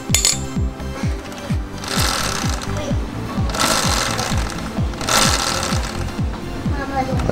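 A wrench tightens the titanium rear axle nut on an Aprilia RSV4 RF motorcycle, giving a steady run of close, rapid ratcheting clicks that continues through the whole stretch with brief louder bursts.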